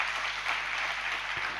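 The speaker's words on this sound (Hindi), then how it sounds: "ये क्यों दिखाने के लिए आप तालियां बजाते हो?" Audience applause at a Jain religious sermon (pravachan) by Acharya Vidyasagar Ji Maharaj, a steady, dense wash of clapping filling the whole moment at even loudness with no voices over it.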